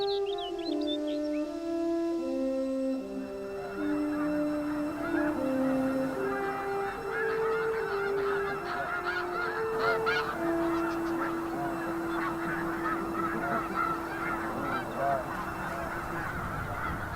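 Many geese honk together in an overlapping chorus, a busy wild colony calling steadily at a moderate distance, with a faint voice now and then.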